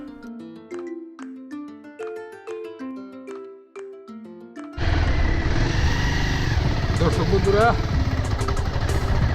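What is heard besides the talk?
motorcycle engine while riding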